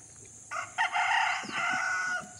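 Rooster on a small farm beside a fishpond gives a single loud, close crow lasting about two seconds, standing clear above faint background noise.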